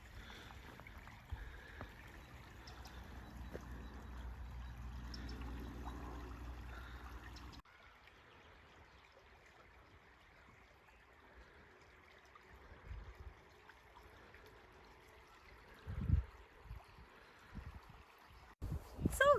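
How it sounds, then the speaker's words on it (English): The Danube river flows and ripples, with currents running in opposite directions, giving a low, soft wash of moving water that fades quieter partway through, with faint splashes and knocks near the end. "the river Donau at the left side is flowing towards forward side, and if you see here, it's flowing backwards, creating this different kind of ripples"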